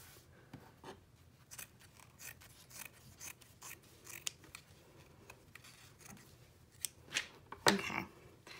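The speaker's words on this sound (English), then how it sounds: "I'm gonna go ahead and trim around my" Scissors snip through embroidery fabric trimmed around a hoop, a quiet run of small cuts and rustles that builds to a few sharper, closer snips near the end.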